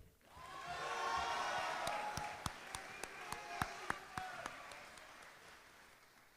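Sustained applause and crowd noise fill a spring 2023 commencement hall for the graduating class, building quickly then holding steady, with a series of sharp, evenly spaced louder claps or slaps punctuating the middle stretch.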